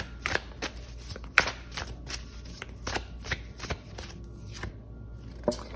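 Oracle cards being shuffled by hand: a close, steady run of crisp riffling flicks and soft slaps, repeating through the whole stretch with no voice.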